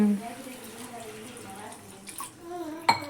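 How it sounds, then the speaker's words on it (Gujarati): Water is poured into a cooked tomato gravy in a pan for a fresh corn curry. A soft splashing pour runs under a speaking voice and ends with a brief clank. "તો હવે આપણે આમાં પાણી નાખી દઈએ"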